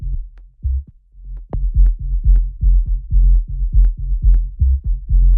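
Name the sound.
sub bass layer of an organic house track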